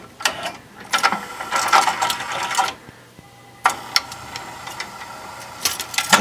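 A claw machine running a test game for a prize, with mechanical whirring and clicking gears in two bursts separated by a brief quieter pause, heard close and alone.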